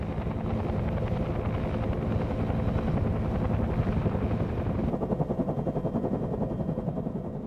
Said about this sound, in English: Because of the rotor noise, pilots tried to avoid alerting the enemy until the last possible moment.